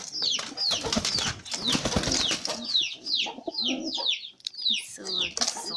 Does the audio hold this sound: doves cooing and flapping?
yes